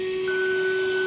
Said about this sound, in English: So let me just crank out the vacuum here